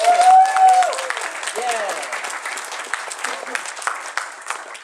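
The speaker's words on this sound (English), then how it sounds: "So a round of applause for Tyler, man." A crowd at a furry convention's opening ceremony claps for Tyler, steady applause throughout with a voice or whistle-like tones briefly over it at the start.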